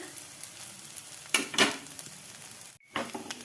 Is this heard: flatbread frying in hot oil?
yes